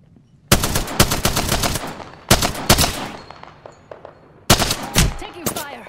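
Rapid bursts of gunfire in the battle royale shooter Apex Legends, several loud close volleys of quick repeated shots separated by short pauses, with some quieter shots trailing between bursts.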